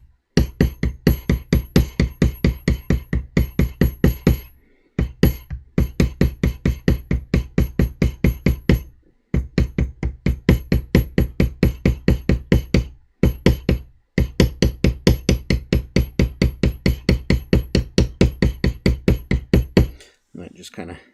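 A mallet strikes a beveling tool on a leather western cowboy holster in long runs of rapid, steady, evenly spaced taps, pausing briefly between bursts, close and fairly loud with no voice over it.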